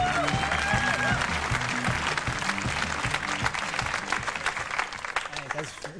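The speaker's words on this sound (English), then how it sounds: "It's very cool of you to applaud for me." A comedy club audience applauds steadily throughout, dense and sustained clapping filling the room, with a voice briefly audible over it near the start.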